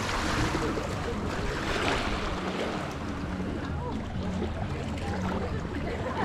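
Small waves lap along the shore of a large lake in Kyrgyzstan. The gentle, continuous washing is mixed with wind noise, and faint voices are occasionally heard under it.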